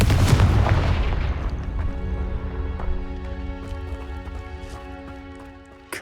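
Confringo blasting spell in the video game Hogwarts Legacy, a loud booming explosion that hits at once and leaves a long ringing, tonal decay with scattered crackles afterward.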